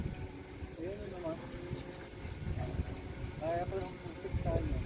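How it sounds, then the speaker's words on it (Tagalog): Several dogs on a street bark and whimper in short scattered bursts at moderate distance, with a person talking over them. "Dami aso dyan, Mal."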